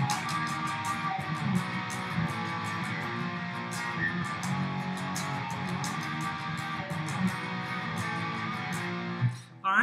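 A guitar plays the verse riff of a song as a steady, sustained strummed figure with dense, continuous tone throughout, heard alone with no talking, ending in a brief handling noise.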